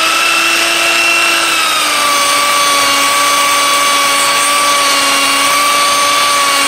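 A spinning belt sander belt is cleaned by pressing a tennis shoe against it, a loud continuous motor whine with steady tonal hum and a rubbing hiss, close and unbroken, with no talking.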